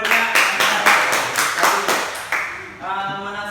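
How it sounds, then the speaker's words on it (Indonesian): A group of people, likely a classroom, claps hands together in a loose, quick rhythm of close, sharp claps that stops after a few seconds, followed by a voice speaking. "Tepuk tangan untuk jawabannya."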